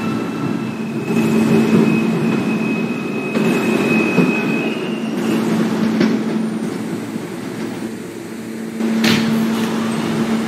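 A subway train on the E line arrives at an elevated station, rumbling steadily nearby, wheels grinding and a brief squeal rising over the continuous low roar.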